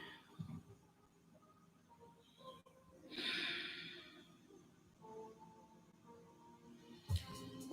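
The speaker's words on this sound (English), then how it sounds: "Continue to breathe." During a yoga class, slow audible breathing comes through as soft inhales and exhales, with a stronger sighing breath near the middle and a sharp snort-like breath at the end, quiet and close with no talk.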